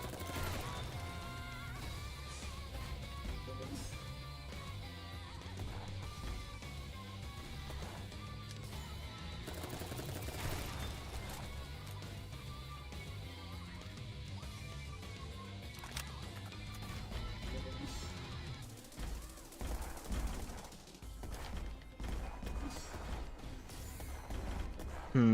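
Gunfire rattles through a Dolls Nest boss fight, a long stretch of dense automatic bursts layered over mechanical clanks and creaks, with a brief drop in the action near the end before the shooting resumes.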